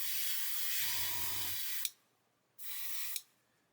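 An airbrush hisses in two steady bursts of spray, each ending with a sharp click, separated by a quiet pause; a faint low whine joins the first burst.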